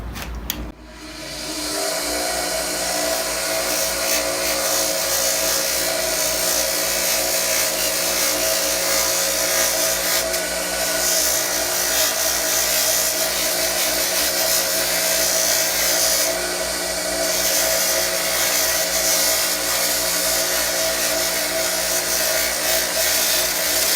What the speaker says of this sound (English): I've got a flat sanding wheel here. It's a 120 grit.